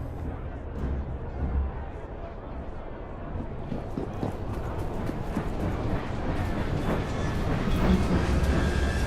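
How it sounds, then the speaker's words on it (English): A steam train rumbles past in the Victorian London setting of the video game Assassin's Creed Syndicate, a loud sustained rolling roar with clattering wheels that swells toward the end. "Train's coming."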